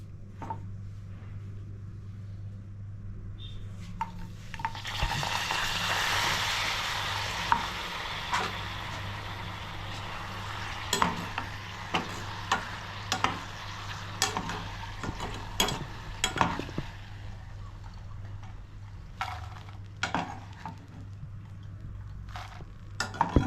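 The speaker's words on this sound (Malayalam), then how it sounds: "നമുക്കിനി കുറേശ്ശെയായിട്ട് പപ്പടം ഇട്ട് വറുത്തെടുക്കാം" Papadam frying in hot oil over medium heat, a building hiss and sizzle with repeated sharp clicks and taps of a utensil against the pan, close and steady.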